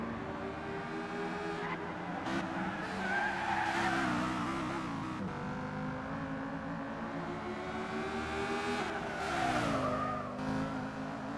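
A race car engine drones steadily through the final lap of a Nürburgring endurance race in a sim racing video game, its pitch rising and falling through gear changes, with tire squeal and skidding mixed in and no talk.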